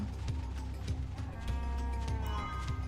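Sheep bleating in the video game Final Fantasy XIII-2, a few wavering bleats over a steady low hum of game music and ambience, moderately loud and with no talking.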